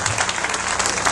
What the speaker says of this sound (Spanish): Fuerte aplauso para el próximo síndico de Santo Domingo Este, el compañero Domingo Páez.